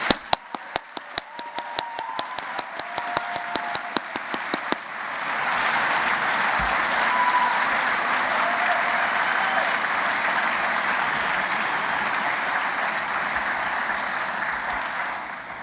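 Audience applause for master's degree candidates at a university graduate commencement in a concert hall; a few scattered claps at first swell into sustained, dense clapping from a large crowd that carries steadily to the end.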